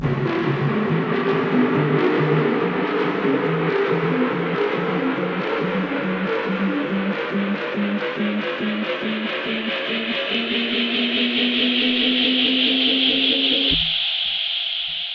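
A dense synth layer rises in a sweeping build-up over a steady pulsing beat, brightening and climbing until the rhythm drops out near the end.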